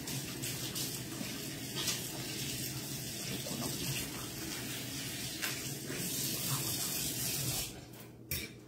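A kitchen tap pours a steady, close rush of water into a sink while hands are washed. The flow holds evenly for most of the time and then drops away near the end.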